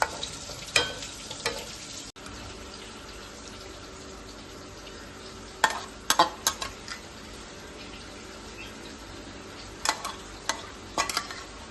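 Squid fry being stirred in a pan with curry leaf powder and coriander, a steady low sizzle with scattered scraping clicks of the spoon clustered in short bursts.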